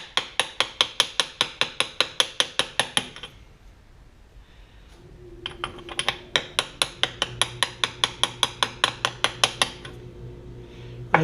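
A hammer taps an impact socket to seat a seal in the steering gear of a 1966 Ford Galaxie 500 convertible, with rapid, evenly spaced metallic clinks in two long bursts separated by a short quiet pause, close and crisp.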